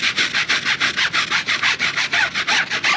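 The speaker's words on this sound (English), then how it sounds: "Then we go back with the tire brush." A stiff-bristled tire brush scrubs hard over a surface to lift shipping marks, producing fast, even back-and-forth rasping strokes, several per second, close and loud with no voices.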